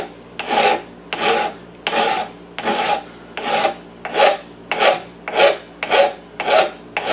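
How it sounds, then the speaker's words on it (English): A hand file shapes the beavertail of a 1911 pistol, rasping in about ten regular, evenly spaced strokes, each a close, dry scrape, with no voices. "I'm going to start touching both as I'm sliding my file off of the tang onto the beavertail."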